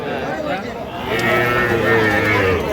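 Cattle and young heifer calves at a busy cattle market, low moos rising out of crowd chatter, with people talking loudly nearby throughout.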